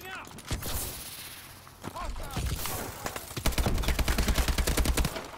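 Gunfire rings out in Call of Duty: Advanced Warfare, with scattered single shots early and then a sustained rapid automatic burst, mixed with other game effects.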